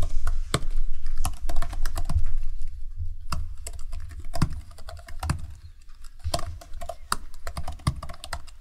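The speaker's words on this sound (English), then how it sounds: "So you're just typing these in?" Typing on a computer keyboard, rapid close clicking keystrokes in irregular bursts with brief pauses, steady and moderately loud against faint room noise.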